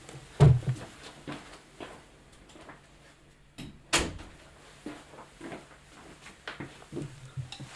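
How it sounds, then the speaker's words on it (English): A bedroom door swings shut with one sharp thud at close range, preceded by a softer knock and faint shuffling movement in a quiet room. "I'm going to go close the door for the sake of sound."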